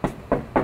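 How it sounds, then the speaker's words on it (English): Three quick, evenly spaced knocks on a door in a race car paint shop, sharp and close, with nothing else around them. "Is that the secret knock?"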